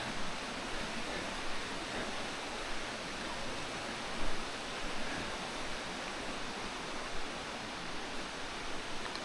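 A distant waterfall at a scenic viewpoint sends up a steady, even broadband rush that holds unbroken with no talking.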